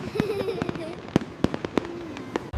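Fireworks burst over a river at night in an old Edo Japan setting, a string of sharp popping cracks spaced irregularly, with voices and crowd murmur going on underneath.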